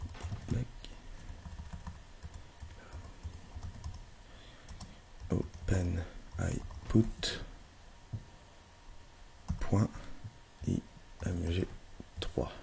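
Quick bursts of keys tapped on a computer keyboard while entering commands in a terminal, clustered in short runs under a voice talking throughout, fairly quiet and close.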